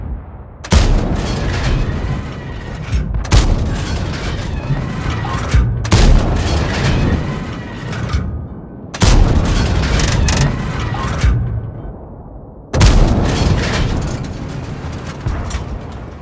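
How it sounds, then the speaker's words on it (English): Heavy gunfire from a weapon in the video game Steel Hunter: four loud, booming bursts of shots, each lasting a couple of seconds and separated by short silences, close and punchy. "I think this is the best gun sound in Steel Hunter"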